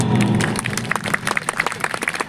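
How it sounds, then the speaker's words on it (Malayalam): Audience applause at a stage program for a temple festival, a dense burst of many hands clapping, loud and close, thinning slightly into scattered claps toward the end. "എല്ലാവരും ചേർന്ന് നിറഞ്ഞൊരു കൈയടി ഞങ്ങൾക്ക് തരാമോ?"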